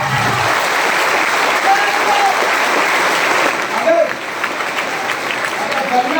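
Dense, sustained applause fills a motivational seminar hall in Deoghar, a broad wash of many hands clapping steadily and loudly throughout.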